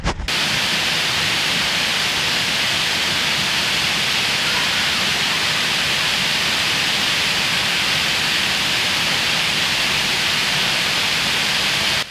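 Waterfall at Gyeongcheondae pours in a steady, loud broadband roar, a continuous wash of falling water close by with no pauses across the whole stretch.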